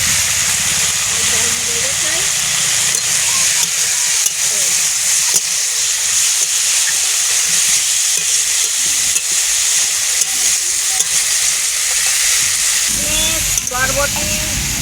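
A pot of mixed vegetables with yard-long beans, egg, pumpkin, potato, peas and lentil dumplings hisses and steams loudly after its lid comes off, a steady close sizzle with faint stirring scrapes and a voice briefly heard.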